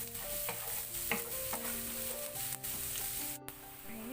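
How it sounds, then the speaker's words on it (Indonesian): Chopped onions fry in hot oil for beef meatball soup, a low continuous sizzle with occasional utensil scrapes and light clinks nearby, faint and without talk. "Kemudian panaskan minyak, tumis bawang yang sudah dirajang tadi."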